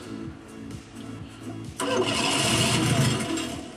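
A homemade monster vehicle's engine cranks with a rhythmic churning that strains to start, then catches into a louder, rougher roar. It sounds close, with a faint voice in the background.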